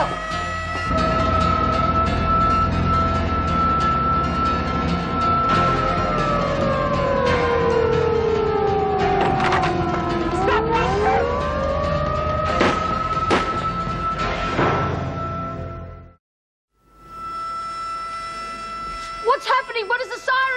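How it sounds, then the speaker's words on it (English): A loud prison alarm siren wails, rising and falling in long sweeping tones, cutting out abruptly near the end before resuming briefly with other noise. "What does the siren mean?"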